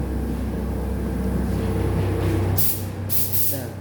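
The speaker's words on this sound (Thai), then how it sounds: "ฟังเสียงฟังเสียงตัวดูดอากาศครับบึมบึมบึมบึมบึมบึม" A spray booth exhaust fan pulls air out with a loud, steady, rumbling roar, joined near the end by two short, sharp hissing bursts.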